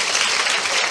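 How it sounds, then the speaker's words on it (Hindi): Brief burst of dense audience clapping at a church preaching gathering, steady and fairly loud with no voices over it. "आइए प्रतीक के लिए ताली बजाइए।"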